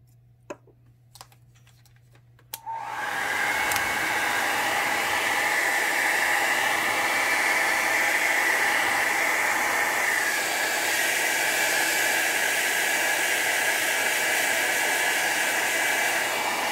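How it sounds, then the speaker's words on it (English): Air compressor set to 40 PSI blowing a steady hiss of air across alcohol ink after a few faint clicks, a loud continuous rush that holds evenly to the end. "So now the PSI on my compressor is set at 40."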